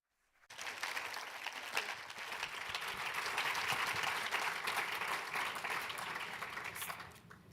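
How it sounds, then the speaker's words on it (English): Audience applause at a symposium in Vienna, swelling quickly from silence into sustained clapping from a large room of listeners, holding steady for several seconds before beginning to taper off. "please, a big round of applause"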